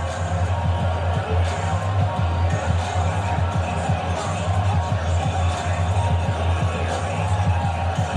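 Stadium crowd noise from a home crowd in Madden NFL 20, Patriots versus Detroit Lions: a steady, loud roar of massed voices continuing throughout, without clear peaks.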